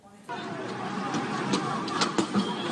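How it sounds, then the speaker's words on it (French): Thrown projectiles such as paving stones strike a bus during a street riot. Loud, sharp impacts land irregularly over a constant rumble of street noise and engine, with several hits clustered near the end. "Le bruit des projectiles jetés sur le véhicule."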